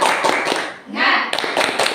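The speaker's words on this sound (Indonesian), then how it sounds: "kita tepuk semangat sekali ya" A group performs a rhythmic spirit clap together, sharp hand claps and taps in a patterned sequence with a short pause midway, mixed with voices calling along.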